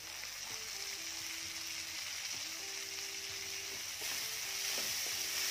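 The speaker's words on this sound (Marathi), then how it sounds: "कांदा परतला की त्यामध्ये टाकायचा आहे टोमॅटो" Onion and tomato fry in a pan for masala macaroni, a steady close sizzle running throughout with faint stirring scrapes, no talking, and a few soft tonal hums running under it.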